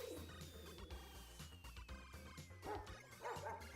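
Dog Pokémon barking in Pokémon Violet, a few short yips set against busy game music that carries on throughout.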